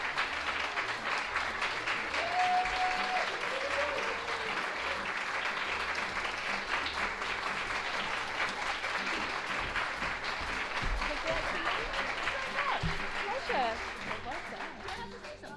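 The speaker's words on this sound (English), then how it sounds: "huge round of applause" Sustained applause from the audience at a children's book award ceremony, a dense steady wash of clapping that holds for the whole stretch at moderate volume, with brief voices surfacing partway through.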